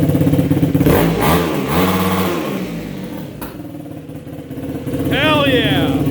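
A 2023 Yamaha YFZ 450R ATV engine with its first modification revs loudly and up close, its pitch rising and falling through several throttle blips, with a person talking over it throughout.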